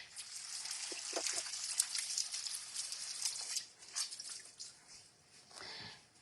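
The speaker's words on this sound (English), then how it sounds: "I'm going to rinse this off" Water running from a tap while an ingredient is rinsed during homemade sushi preparation, a soft, uneven trickle and splash that rises and falls.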